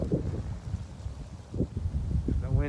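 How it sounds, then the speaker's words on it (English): Bitter wind near zero degrees Fahrenheit blows across an outdoor trapping area beside a stream bed, giving a low, gusty rumble on the microphone, with bursts of talking over it. "it's really cold today, the wind is up"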